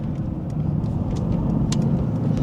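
A car engine hums steadily from inside the cabin while driving, a continuous low drone with road rumble and no talking.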